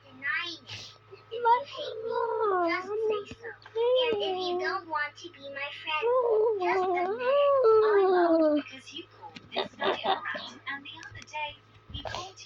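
A cat yowls in a string of drawn-out, wavering meows over about eight seconds, close and fairly loud, followed by scattered softer noises.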